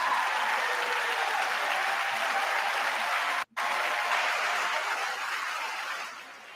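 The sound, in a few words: audience applause at State of the Union address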